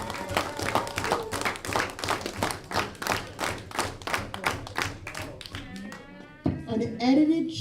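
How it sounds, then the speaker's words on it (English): A youth group claps together in a steady rhythm, loud and even beats for about six seconds before stopping, with voices over the end. "Guys, I want the best clapping ever."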